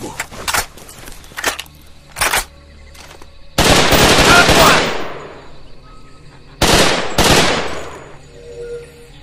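Gunfire in the jungle combat video game Raven Squad: Operation Hidden Dagger: several sharp single shots followed by two loud sustained automatic bursts, close and punchy, with no talking.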